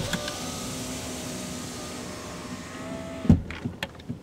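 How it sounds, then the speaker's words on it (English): A power window on a Ford Fusion with a broken door handle hums steadily as it rolls down, a close continuous motor whine that ends in a few sharp knocks and clunks. "Now can I roll down the window?"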